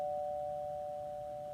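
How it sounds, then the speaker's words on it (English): A doorbell sounds a single sustained electronic tone that holds steadily and slowly fades, alone in a quiet room. "The doorbell rang again."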